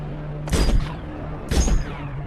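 Two sharp, loud gunfire bursts about a second apart, each a dense cluster of rapid shots against a steady background hum, from a zombie film scene of quick headshots.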